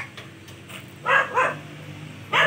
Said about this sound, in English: Grabby young dog.